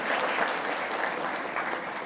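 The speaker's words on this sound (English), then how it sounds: "I want you to give yourself a round of applause." Attendees at a healthcare conference give a round of applause, a soft, uniform patter of many hands heard from a distance, continuous and even with no speech over it.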